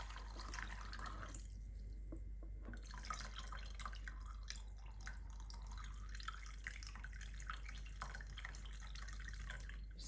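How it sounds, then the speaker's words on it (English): Homemade chicken stock poured through a mesh strainer: a faint, continuous trickle and drip of liquid with a low hum underneath. "I've poured all that in now."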